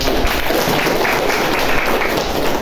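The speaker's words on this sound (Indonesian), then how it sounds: "Berikan tepuk tangan untuk." A university teaching-session audience applauds in a steady, loud, continuous patter of many hands, close by, with no clear talk over it.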